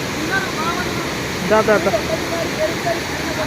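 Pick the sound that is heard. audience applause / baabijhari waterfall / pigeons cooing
baabijhari waterfall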